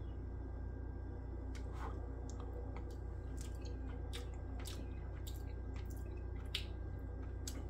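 Close, wet chewing of Marie Callender's pulled pork mac and cheese, with soft squishy mouth clicks and smacks coming irregularly over a faint steady hum, no talking.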